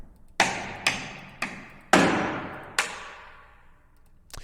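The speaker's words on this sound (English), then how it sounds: "they have them hitting the drum with sticks, with their hands, with mallets" Six separate hits on a cinematic sampled drum, played with sticks, hands and mallets. Each is a sharp close thud that rings out and decays before the next, at irregular spacing.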